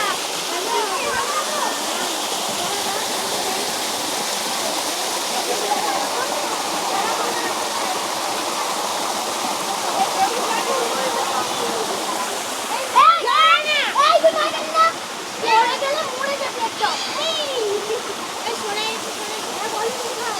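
Flowing water at Sita Kund in Purulia, a steady broadband rush continuing under people talking close by, with louder voices and brief splashy bursts joining near the end.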